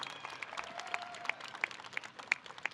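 An audience at a new student convocation ceremony applauds, a steady wash of clapping with several sharper claps standing out, fairly distant and moderate in level, with no talking over it.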